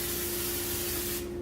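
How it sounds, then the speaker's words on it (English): Pam cooking spray hisses onto a pan in one steady, close burst lasting over a second, then cuts off abruptly. "Before I even do that, I'm going to add some Pam to the pan because it makes it easier to clean"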